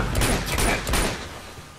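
Several quick gunshots ring out in Uncharted 2: Among Thieves Remastered. The close, loud cracks fall in a short burst and fade out toward the end.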